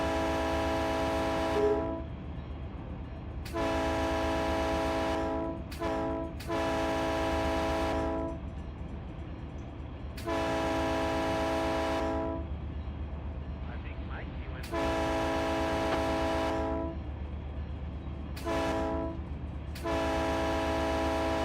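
A Union Pacific freight locomotive in the Run 8 train simulator blasts its horn for road crossings in repeated long and short toots over a steady engine rumble.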